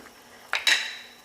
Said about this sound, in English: Okay, I'm going to give this a stir.